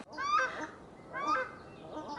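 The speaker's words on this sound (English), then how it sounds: "Those noisy ducks are paradise ducks. Very, very noisy." Paradise ducks honk and call loudly in two noisy bursts with a pause between them, heard outdoors in the Catlins, New Zealand.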